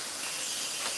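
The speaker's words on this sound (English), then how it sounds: "go ahead and saute it in the pan with a little bit of sesame oil" Broccoli sizzling in a pan with a little sesame oil, a steady close hiss that runs unbroken and even for about a second, with no voices over it.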